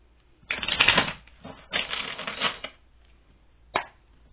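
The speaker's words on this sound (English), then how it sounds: "let's get one more shuffle" Two bursts of papery riffling and flicking as a deck of tarot cards is shuffled close by, then a brief single snap near the end.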